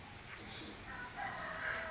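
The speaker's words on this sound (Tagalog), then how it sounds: "ang daming manok" Chickens on a farm cluck and crow faintly in the distance, their calls rising over a steady background hiss, with no voice over them.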